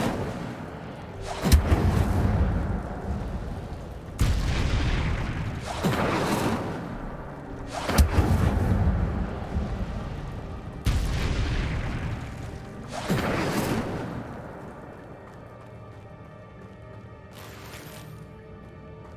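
Incendio fire spell blasts in the Hogwarts Legacy video game boom out about six times at irregular intervals, each a loud burst with a whooshing tail, with no talk over them.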